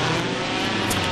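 A historic racing car at the 2000 Monaco Historic Grand Prix drives through the harbour chicane, a loud, steady engine roar that fills the moment without a break.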